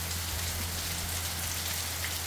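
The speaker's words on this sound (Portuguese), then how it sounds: "Já tem uns 5 minutos de chuva, hein?" Steady rain falls on outdoor surfaces around garden plants, a continuous even hiss of many drops with a faint low hum underneath and no voices.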